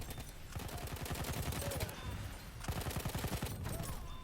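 Rapid bursts of Hellriegel submachine gun fire in Battlefield 1, a dense rattling stream in two long sustained volleys separated by a brief pause, loud and close with game effects underneath.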